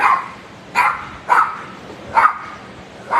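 A dog in a shelter kennel barks four times in a steady rhythm, sharp and fairly close, with faint room noise between the barks.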